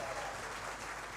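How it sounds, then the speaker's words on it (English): An audience applauds finalists at an office management awards ceremony, a steady wash of clapping held at an even level throughout. "keep your applause going"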